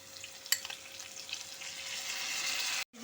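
Green chillies, salt and an onion-garlic-tomato paste frying in hot oil, a steady close sizzle with a sharp tick of something dropped into the pan near the start, rising a little before cutting off abruptly.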